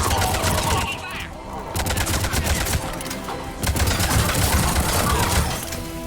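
Rapid bursts of sci-fi gunfire rattle through a firefight in the Mass Effect 3 video game, loud and dense, with brief lulls between volleys.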